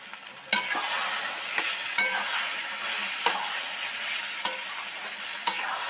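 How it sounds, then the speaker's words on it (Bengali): Egg bhuji gravy stirred in a hot pan, a steady close sizzle punctuated by five or six sharp spatula knocks and scrapes at irregular intervals, with no voices. "একটু একটু ভালো করে নেড়ে চেড়ে মিশিয়ে দেবো"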